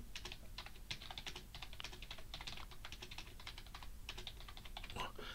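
Rapid, uneven clatter of typing on a computer keyboard while editing web page settings, close and steady throughout with short pauses between bursts of keystrokes.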